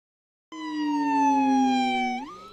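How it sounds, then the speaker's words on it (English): A fire truck siren with a low-frequency tone starts abruptly, holds a loud steady wail, then bends upward in pitch near the end, heard alone. "You can't feel it, but this siren is emitting a vibration."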